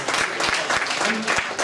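A small audience at an Advent café gift-swap gathering breaks into a short burst of clapping, close and lively.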